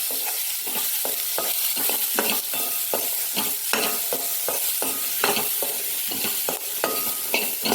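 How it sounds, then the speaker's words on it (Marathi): Fresh green peas fry in a pan for matar kachori, with a constant sizzle broken by rhythmic scraping strokes of a spoon stirring them, close and fairly loud. "हे ओले मटर आहेत ताजे, ते फ्राय करून घ्यायचे"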